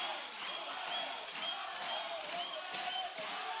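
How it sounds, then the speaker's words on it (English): A boxing crowd at an IBA world super middleweight title fight in Aarhus gives a steady, fairly faint roar of cheering that swells and dips slightly. "Crowd really getting behind Mock here,"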